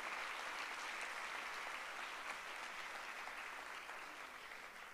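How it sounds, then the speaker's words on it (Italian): Faint, distant applause from a large crowd in a packed theatre, a steady wash of clapping that slowly fades toward the end. "farei un secondo applauso a Carlo Verdone, grazie per la presenza."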